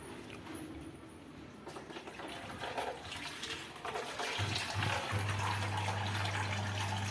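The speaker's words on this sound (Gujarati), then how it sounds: "હવે આમાં પાણી નાખવાનું." Water pours into a cooking pot for khichdi, first softly and then as a fuller, louder rushing stream with a rising hollow tone as it fills.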